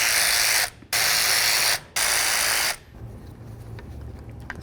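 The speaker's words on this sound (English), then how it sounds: "we're going to remove the mounting bolts for the motor to the regulator using a T30 Torx bit" A ratchet fitted with a T30 Torx bit loosens the motor mounting bolts on a 2005–14 Ford Mustang window regulator, giving three loud, sustained buzzing bursts close by, then a quieter tail of faint handling noise.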